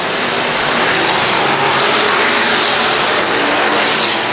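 Race cars roar around a local speedway during a season-ending race, a loud steady wall of engine noise with no break and no voices audible over it.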